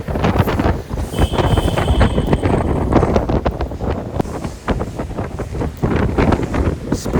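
A speedboat crossing big sea waves on the way to Gateway of India, Mumbai, with strong wind roaring and buffeting close over the hull's rush and slaps, loud and continuous with no talk.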